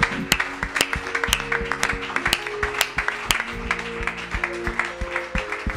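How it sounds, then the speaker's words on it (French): Congregation in a church clapping together in a steady rhythmic beat over sustained music tones, the claps loud, close and evenly spaced. "nous accueillons le Saint-Esprit en l'applaudissant très fort."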